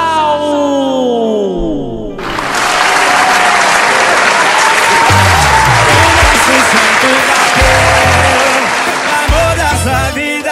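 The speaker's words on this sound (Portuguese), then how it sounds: "Fique em pé e bata palmas ao casal!" Wedding guests stand and applaud the couple, Leticia and Felipe: after a brief stretch of singing, loud sustained clapping bursts in and fills the rest of the moment, with music and voices faintly beneath.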